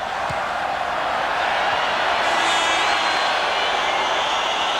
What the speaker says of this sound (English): We have a Mexican wave in the stadium, that's why you have the cheering at the moment.